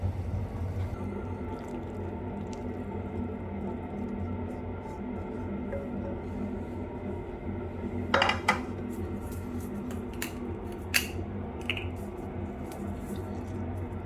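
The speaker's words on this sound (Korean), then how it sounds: "이제 예쁜 그릇에 좀 담아볼게요." Dishes and utensils clink faintly while pork and leek stir-fry is plated into a bowl, with a few sharp clatters midway over a steady low background hum.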